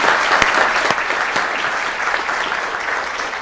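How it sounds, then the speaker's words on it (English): A council meeting audience gives a round of applause for karate chief instructor Pete. The clapping is dense and steady throughout, with a few sharper claps standing out and almost no talking. "Let's give Pete first a big round of applause."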